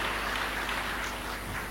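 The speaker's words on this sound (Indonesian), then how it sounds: "Sekali lagi kita berikan tepuk tangan yang meriah buat Tuhan Yesus" Church congregation applauding after a sermon, a steady dense wash of clapping from many hands that holds at an even level throughout without pauses.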